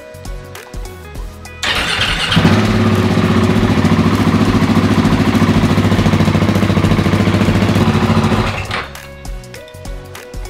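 A KTM 690 SMC R single-cylinder motorcycle fitted with a Wings exhaust starts up and idles loudly and steadily close by for several seconds, at night, with quieter ticking before and after.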